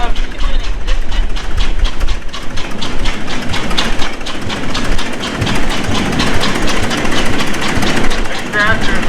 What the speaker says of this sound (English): Tractor is 3570 oil gas, owned by Mark Peterson